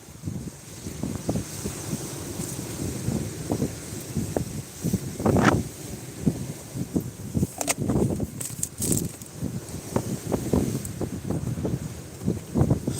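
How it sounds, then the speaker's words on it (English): Steady wind buffeting the microphone on Eastbourne beach, UK, with a constant rushing roar and irregular low gusts throughout, loud and close. "Well, it's getting windy, man."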